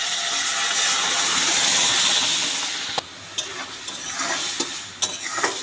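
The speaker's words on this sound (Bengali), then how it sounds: "পাট শাকের ডালটা ভালো করে নেড়ে নিলাম।" Jute leaf and masoor lentil dal bubbles and hisses loudly in a pan, then the hiss eases as a spoon stirs it with several sharp scrapes and knocks against the pan.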